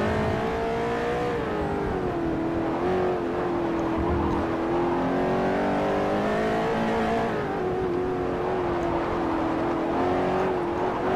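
A race car in Forza Motorsport 4 power-slides during an S-Class multi-class event, its engine holding a steady, loud whine that rises and dips in pitch for the whole stretch.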